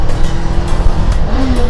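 A motorcycle engine revs hard and pulls away during a test ride with a passenger aboard, a loud steady drone whose pitch rises sharply near the end, with wind and road noise close by and no talk.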